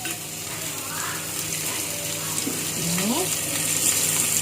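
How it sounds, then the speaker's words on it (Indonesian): Ground spice paste for Cirebon-style sambal goreng hati fries in reused oil with a steady sizzle and hiss, while someone speaks briefly over it. "bumbu halusnya kita masukkan"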